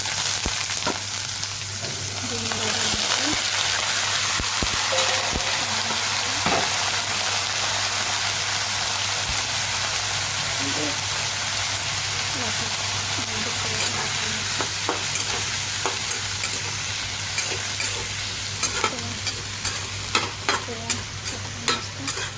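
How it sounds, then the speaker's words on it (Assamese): Breakfast snacks frying in a pan, a loud continuous sizzle with steady stirring and scraping throughout, with occasional small clicks of the utensil against the pan, heard alone without talk. "নাস্তা ভাজি ভাজি বনাম"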